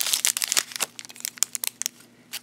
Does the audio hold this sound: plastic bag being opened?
yes